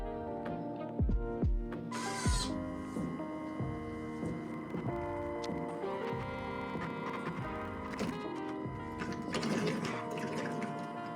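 The resin pump of a Jupiter SE resin 3D printer hums and whirs as it refills the vat, a steady close mechanical drone with a few knocks and clicks near the start.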